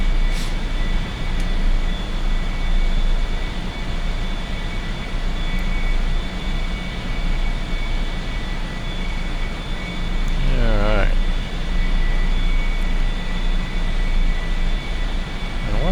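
A-4E-C Skyhawk jet in DCS climbing after takeoff, a steady loud engine roar with a whining tonal drone held throughout, one brief rising-and-falling sweep near the end.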